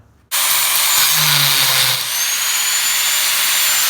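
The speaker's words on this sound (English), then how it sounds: "Cut all the way through the head of the bolt." A power tool cuts through the head of a steel dogbone mount bolt on an MK6 GTI, starting abruptly with a loud, harsh high-pitched grinding that continues steadily for nearly four seconds.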